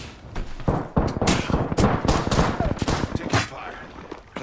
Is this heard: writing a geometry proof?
no